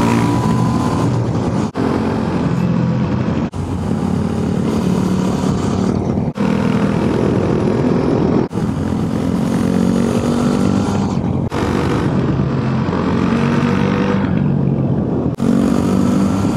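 Motorcycles riding through a road tunnel in Sardinia, a loud continuous engine roar with reverberant throttle swells and gear changes, close and steady throughout without talk.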